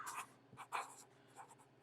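Pink Sharpie marker writing on a piece of cardboard in a garage workspace, short squeaky felt-tip strokes in a few quick bursts, close and fairly quiet, with no talking.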